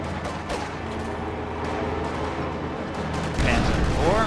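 Battle in Company of Heroes with small-arms gunfire and booming cannon shots from a T-34 and a Panzer IV, a dense continuous rattle of fire and explosions with a heavier blast near the end, overlaid by game voices.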